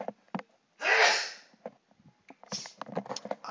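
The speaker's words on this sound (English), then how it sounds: "Woo, that sneeze came on quick, though." A single loud human sneeze bursts out close to the microphone, preceded and followed by quieter breaths and faint background sounds.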